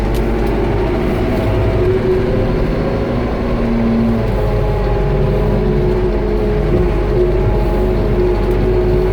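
The 120 hp Perkins diesel of a 2002 Manitou MLT 633 telehandler runs steadily at idle, a loud, constant low rumble with a faint whine, close up and unbroken.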